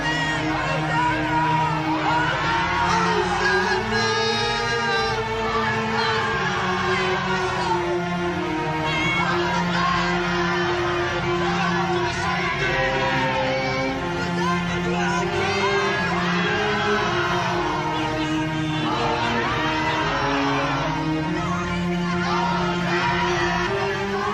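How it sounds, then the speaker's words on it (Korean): Large crowd cheering and shouting with whoops and yells from a Palm Sunday scene, a continuous loud roar of many voices with some tonal chanting underneath, steady throughout. "실제 영상을 보니까 그날의 환호가 정말 대단하다"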